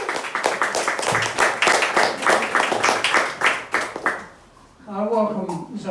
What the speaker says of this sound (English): Let's give Zoe a big applause.